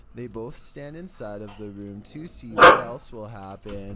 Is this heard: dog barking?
yes